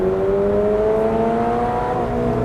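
A Toyota GR86 with a 2.4-litre flat-four boxer, or a Mazda Miata MX-5, accelerating hard after a downshift. The engine note climbs in steady rising harmonics and stays loud and close for the full stretch, with no talk over it.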